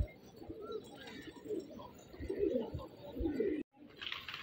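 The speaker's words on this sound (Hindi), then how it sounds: "माशाल्लाह इस जाल में भी कबूतर हैं और इस जाल में भी कुछ कबूतर हैं" Pigeons in netted coops coo softly and repeatedly at close range, their low burbling calls overlapping in an uneven rhythm with some light rustling.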